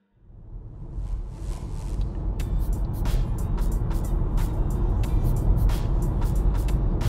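Interior of a Nissan Leaf electric car driving from Dublin toward Belfast, a steady low road and tyre rumble building up from near silence, with occasional sharper knocks over the drone.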